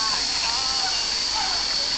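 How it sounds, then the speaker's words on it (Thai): A waterfall roars as a continuous, even rush of water, with faint voices mixed into the steady noise. "น้ำตก"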